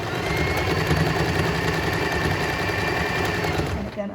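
Sewing machine stitching through layers of cloth for a washable, reusable cloth, a fast even needle clatter and motor whir, close and loud, running unbroken until it stops at the end.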